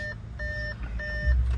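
An Audi SQ5 sounds a warning chime in repeated two-tone beeps, three evenly spaced pulses over a low engine-like rumble inside the car.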